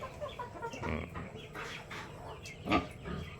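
A pure native Filipino rooster named Kanor, the flock's sire, gives soft clucks and one sharper call on a farm, close by, against steady outdoor background noise.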